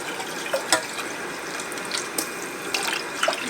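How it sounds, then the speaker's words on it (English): Water churns and splashes in a pot of poke salat greens being brought to a boil, a steady liquid wash with scattered bubbling pops and splashes close by. "I'm just going to bring it to a boil"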